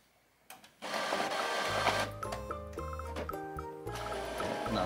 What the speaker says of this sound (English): Now it's gonna do alignment